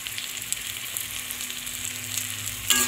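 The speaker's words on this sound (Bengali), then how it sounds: "এটাকে ভালো করে আবার একটু কষিয়ে নেব আর কষাবো, যাতে মশলাটা পুড়ে না যায়।" Ground spices (salt, Kashmiri red chilli, coriander and cumin) sizzle steadily in a hot pan for an egg omelette curry, a soft continuous frying hiss with a brief stir near the end.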